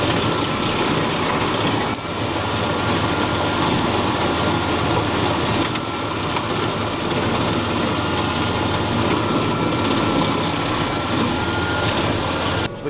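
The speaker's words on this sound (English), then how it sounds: "Right, we'll fire the chipper up." A tractor-PTO-driven wood chipper starts up and runs at a loud, steady, dense roar for several seconds, close by, with no talking.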